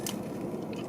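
Crunchy Sweet Tarts Chewy Fusions candy is bitten, a close, brief crunching chew.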